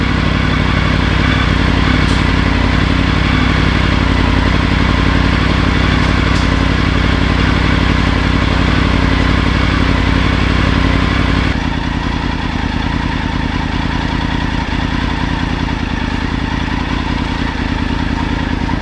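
A Triumph Tiger 900 motorcycle with an aftermarket Arrow exhaust idles steadily with a deep, throaty rumble, continuous and close, its tone dropping slightly partway through.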